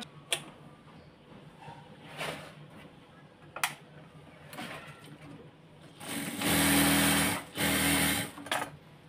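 Sewing machine stitching a hijab, a loud steady motor whir in two close bursts late on, after scattered faint clicks and handling sounds, with no talk.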